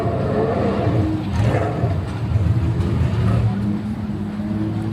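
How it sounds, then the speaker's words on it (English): Race cars roar along the track at Circuit of the Americas on race day, a steady loud engine drone with rising revs as cars pass nearby. "Cars are out here."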